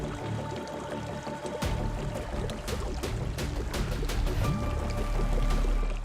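Water flows and splashes through a narrow cave passage in Patalkot, Chhindwara, a steady rushing stream with sharper splashes and trickles, fairly close and continuous.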